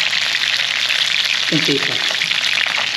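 Food sizzles steadily in a hot pan of oil, a dense, continuous frying hiss throughout, with someone briefly talking over it.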